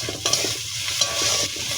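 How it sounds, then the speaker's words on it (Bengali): Onions sizzle in hot oil with black cumin seeds, a steady frying hiss broken by a few soft scrapes of stirring, close and moderately loud with no talking. "আর পেঁয়াজ ভাজা হচ্ছে"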